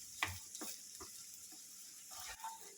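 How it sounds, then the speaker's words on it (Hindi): A spoon stirs potato sukhi bhaji in a pan, several soft scraping strokes over a light sizzle, close and fairly quiet. "ये देखिए, इसको आप अच्छे से मिक्स कीजिएगा।"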